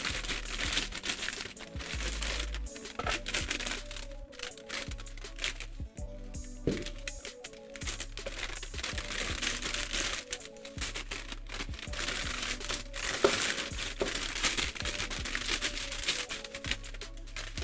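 Wrapping paper around a pair of Jordan 1 Eastside Golf sneakers crinkles and rustles continuously and close up, with a steady low hum beneath the handling noise.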